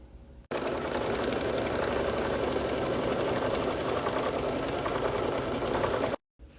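An embroidery machine stitches without pause as it tacks red batik fabric down in the hoop for a beach bag appliqué, a close even whirring hum that starts and stops abruptly.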